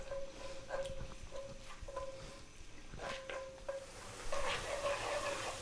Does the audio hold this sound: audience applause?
no